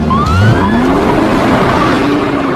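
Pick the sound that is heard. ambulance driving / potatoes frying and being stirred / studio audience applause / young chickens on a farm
ambulance driving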